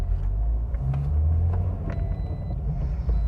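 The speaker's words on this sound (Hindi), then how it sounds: "गाड़ी की ड्राइव लेते हैं" A 2016 Toyota Corolla GLi drives along with a low, steady engine and road rumble, muffled as if heard from the cabin, with faint ticks and knocks over the hum.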